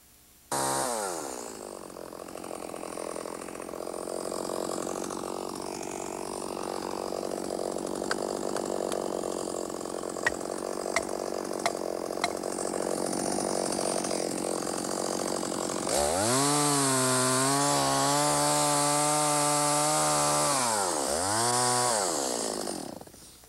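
A vintage Stihl chainsaw makes the back cut to fell a tree, its engine revving loud and close through the cut, then dropping to a rough idle with a few sharp blips before winding down at the end.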